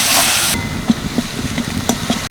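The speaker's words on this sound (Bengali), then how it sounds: "ভালো করে মশলাগুলো কষিয়ে নেব।" Cumin, coriander, Kashmiri chilli and garam masala powders frying in hot oil in a pan for a vegetarian papad curry, giving a steady close sizzling hiss with faint intermittent clinks of a stirring spoon.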